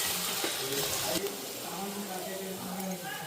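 Tomato and onion sizzle softly in a pan, a low, steady frying hiss with faint stirring scrapes and a couple of clinks, heard near and fairly quiet.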